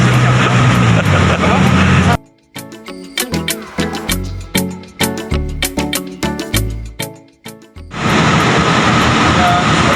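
A car drives along with a loud, steady road and engine roar at the start and end, broken by a stretch of punchy music in between.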